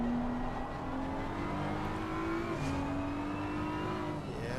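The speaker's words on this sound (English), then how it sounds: "Sounds very nice. Great chunky downshifts." A race car engine in Assetto Corsa Competizione at Spa-Francorchamps drones steadily, its pitch sliding down in a couple of gear shifts, with a continuous loud mechanical roar throughout.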